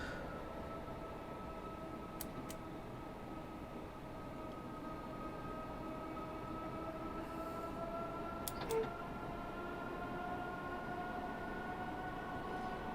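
A train runs on the London route near South Hampstead in Train Simulator 2021, a steady rolling rumble with a sustained tonal hum and two brief sharp clicks, no talk.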